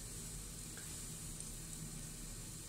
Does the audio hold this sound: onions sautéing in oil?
yes